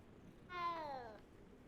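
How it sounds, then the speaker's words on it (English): A single short meow from a cat in the Hogwarts Legacy video game, clear and rising then falling over about a second, faint against a quiet background. "Hello, kitty cat. Meow."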